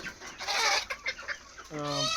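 Kadaknath chickens cluck on a poultry farm, birds brought from Pune and fed poultry feed; several close, overlapping clucks and squawks, with a sustained higher call near the end.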